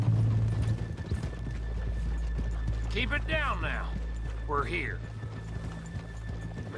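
Horses clop and shuffle amid a steady low rumble as someone speaks quietly, with game-style ambience throughout, in Red Dead Redemption 2.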